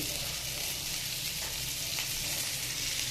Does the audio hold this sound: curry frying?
yes